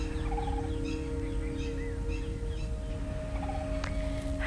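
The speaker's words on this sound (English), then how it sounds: "listening to the sound of the birds chirping" Birds chirp and call in short repeated bursts over a steady low hum, fairly distant and moderate in level, with no voices.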